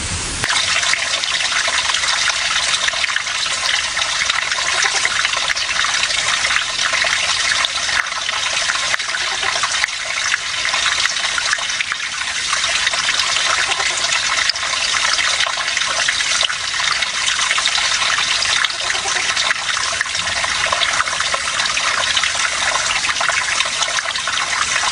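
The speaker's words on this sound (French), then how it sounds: "son chant est presque inaudible sur le bruit du torrent" A rushing mountain torrent roars steadily and loudly throughout, while a Kashmir frog's call stays almost inaudible beneath the water noise.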